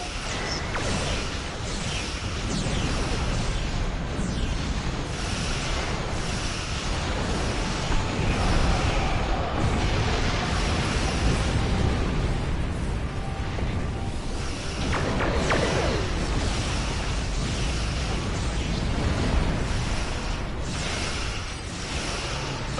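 Starship weapons in Star Trek Online fire at full power in a dense, continuous barrage of booming blasts, whooshing beams and mechanical bursts, loud and unrelenting throughout.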